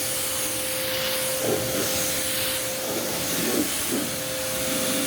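Continuous hissing spray of a pressure washer rinsing foam off a car, steady and close, with slight surges as the stream moves, over a faint tonal hum.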